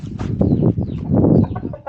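Fighting rooster clucking and low throaty calls, close by and fairly loud, continuing through the clip with short bursts.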